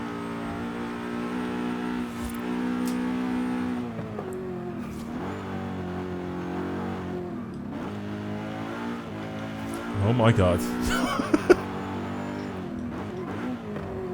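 Racing car engine in a driving video game, revving and shifting steadily throughout with a brief louder surge near the end, while a voice exclaims briefly.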